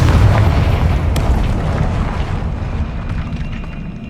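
A Bombarda or Confringo spell explosion in the Hogwarts Legacy video game: a loud, deep, rumbling blast that slowly fades over about four seconds.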